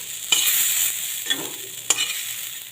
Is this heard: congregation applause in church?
no